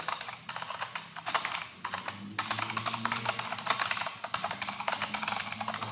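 Fast, steady typing on a computer keyboard while writing JavaScript code, with dense clattering keystrokes close up and brief pauses between bursts.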